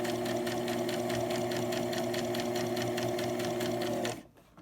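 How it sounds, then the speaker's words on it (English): A sewing machine stitches a fabric face mask, its rapid regular clatter running steadily and close for about four seconds before stopping abruptly. "I'm only gonna sew to these 2 pins and then I'm gonna backstitch."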